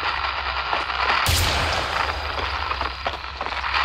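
In the Roblox game Hellmet, a dense burst of gunfire opens with a sharp loud shot and runs on as a continuous roaring volley with rumbling low end, without talk.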